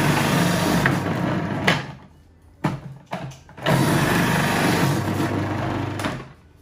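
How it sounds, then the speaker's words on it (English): Food processor grating 350 grams of radish, a loud motor whirr running continuously, briefly cutting out with a few knocks and clatters before starting again, close by with no talk. "I'll be using my food processor to grate it"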